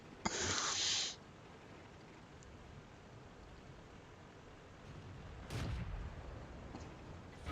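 Tank cannon fire in World of Tanks, with the T71 and a Pershing in the fight: two loud separate blasts several seconds apart, the first sharp and ringing, over a quiet low rumble.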